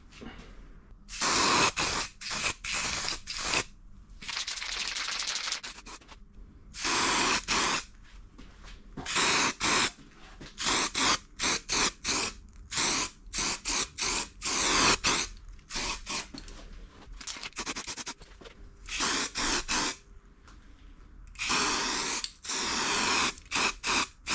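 Etch primer is sprayed in short hissing bursts onto rusty Harley motorcycle parts, loud and close, repeated many times with brief silent gaps between passes.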